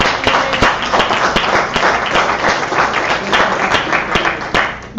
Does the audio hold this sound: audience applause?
yes